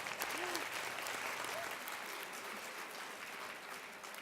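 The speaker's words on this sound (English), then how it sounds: "Let's give ourselves a round of applause." Applause from a conference audience at an annual governance session, a dense, even patter of many hands held steady for several seconds, with a brief voice or two rising over it.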